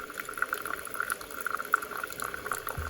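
Water running from a water purifier into a cup for green tea, a soft steady trickle with faint gurgling, close and fairly quiet with no voices.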